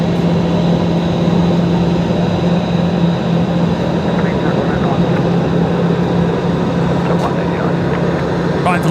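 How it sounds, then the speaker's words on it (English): An airliner on final approach to Brisbane Airport, arriving from Canberra, drones steadily with loud, sustained engine noise and a low hum, close and continuous. "just about to touch down here, coming in from Canberra."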